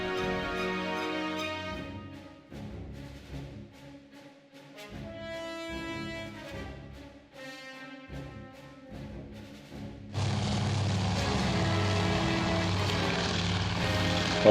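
A propeller scout plane in the naval combat game Task Force Admiral drones alongside orchestral game music. The engine noise swells into a loud, steady roar toward the end, with no speech.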